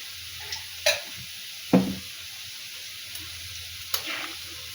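Masoor dal with vegetables boils in a pot, giving a steady soft hiss broken by a few sharp pops and light clinks, with no talking.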